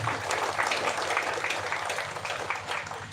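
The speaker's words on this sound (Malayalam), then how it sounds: "എല്ലാവരും കൈയടിച്ചുകൊണ്ട് ഇത് അംഗീകരിക്കുക" An audience at a public meeting claps together in a dense, sustained round of applause that stays at an even level for a few seconds, with faint voices underneath.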